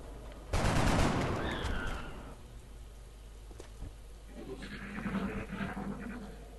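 Gunfire from the XCOM video game: a loud burst of shots at the start that rings out and fades, followed by quieter rumbling game effects later.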